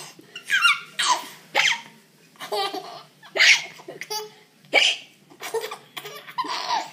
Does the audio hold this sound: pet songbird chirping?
no